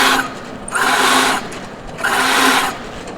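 A wood lathe cuts the center hole of a spinning top in two loud bursts of about half a second each, with quieter pauses between them as the tool backs out of the cut.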